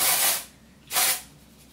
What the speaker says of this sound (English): I'm just going to spray it along the roots just to add a little bit of lift